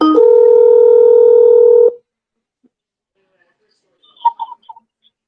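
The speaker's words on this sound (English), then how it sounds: "No, I'm trying to call the number." A telephone number is dialed, with a steady electronic touch-tone held for about two seconds, then silence before a brief, faint voice.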